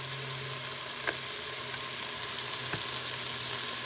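Garlic and Italian seasoning fry in a soup pot with a steady, dense sizzle throughout, broken by a couple of brief stirring scrapes, with no voices.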